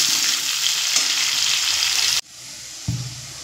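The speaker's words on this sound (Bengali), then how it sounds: "পেঁপে আলু তো ভাজা হচ্ছে" Papaya and potato pieces with turmeric and salt fry in a pan over medium flame, giving a loud, steady close sizzle. It cuts to a quieter sizzle partway through, with a soft clunk near the end.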